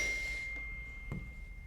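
A phone gives a single short ding for an incoming text, a clear steady tone that fades over about a second, with a faint tap near the end and no voices.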